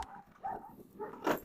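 Several dogs, among them a large poodle, give short yips and barks, fairly faint and close together over a brief moment, with no talk.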